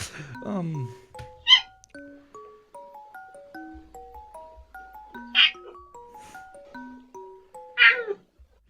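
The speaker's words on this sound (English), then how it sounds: "You see, that was the cat I talked about earlier." A cat meows loudly several times at close range, each call rising sharply and standing out over a soft, steady background of electronic tones.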